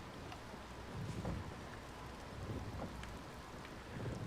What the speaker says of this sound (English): it's pissing rain out there now